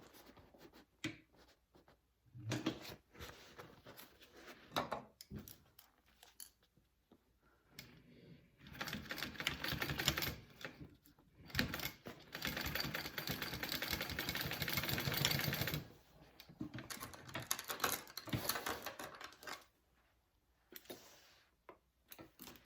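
A sewing machine stitches along a seam line on a Claire shoulder bag, running in bursts of steady whirring with short pauses between runs, close and moderately loud.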